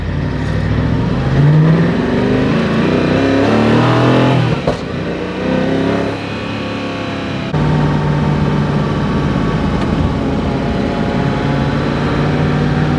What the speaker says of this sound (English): you can hear how loud this engine is